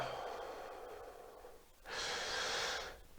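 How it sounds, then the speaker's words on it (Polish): Slow, calm breaths up close: a long soft inhale followed by a fuller, airy exhale. "Spokojnie oddycham."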